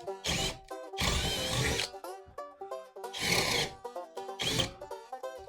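A power drill bores into wood with a 3/8 inch Bosch paddle bit in loud, close bursts that grind and whine, separated by brief pauses and tonal motor hum.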